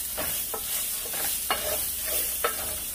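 Rice and onions frying in a pan, stirred with a series of regular scraping strokes over a soft, continuous sizzle.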